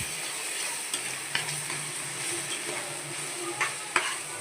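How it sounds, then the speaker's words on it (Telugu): Boiled gongura paste fries in a pan with a soft, steady sizzle, broken by a few light clicks and scrapes of stirring, fairly quiet and alone without talk. "మనం ఉడకబెట్టి పేస్ట్ చేసుకున్న గోంగూర పేస్ట్ని కూడా వేసేసుకుని"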